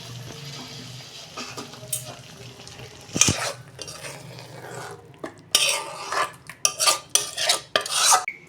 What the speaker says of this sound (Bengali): নিরামিষ তরকারি আমি ঢেলে ফেলছি